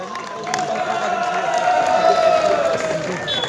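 An audience claps and cheers steadily at a ceremony for the fifth-place finisher, a dense wash of applause holding at an even level for a few seconds with a tonal hum running underneath.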